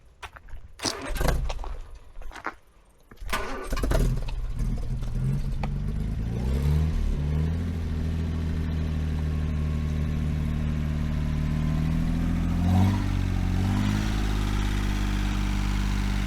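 An Armstrong Siddeley car engine that had stalled cranks a few times, catches and settles into a steady, close idle that hums on evenly, with a slight rise in revs near the end.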